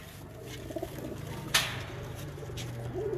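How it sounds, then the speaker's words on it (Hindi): Imamdeen pigeons give soft, rolling coos near at hand, with a sharp tap or flutter midway and a louder coo at the close, with no voices. "इमामदीन कबूतर है माशाल्लाह से"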